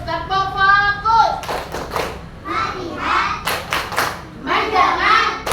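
Schoolchildren in a classroom doing a rhythmic focus clap, bursts of group hand claps in a set pattern alternating with chanted words, the teacher and children speaking between the claps.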